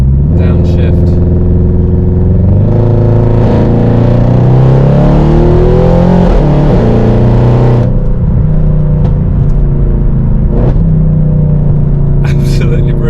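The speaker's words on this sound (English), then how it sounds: "I'm just going to flick it into dynamic mode, comes to life, downshift." A Stage 2 tuned Audi RS6 in dynamic mode revs hard after a downshift, its engine note climbing and sweeping through several loud rising and falling pitches, then settling to a steady drone; occasional voice sounds faintly underneath.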